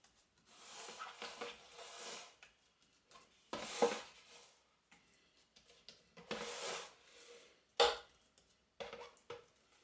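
No-knead pan pizza dough being folded over, quiet soft rubbing and sticky handling sounds with a few faint knocks against the pan, intermittent and close.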